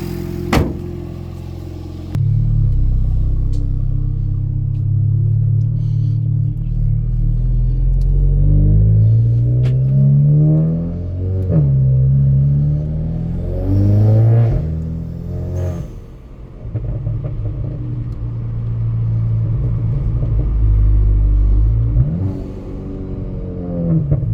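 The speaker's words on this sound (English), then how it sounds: "Now we're gonna do a test drive." An Audi A3 8V on a test drive after an ignition coil pack ground kit install gives a loud, close cabin engine rumble, rising and falling as it accelerates through the gears, with a brief dip midway.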